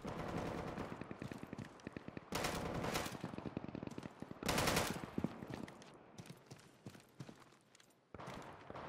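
Rapid bursts of gunfire in Deadside, automatic volleys in several loud clusters separated by quieter gaps with scattered single shots.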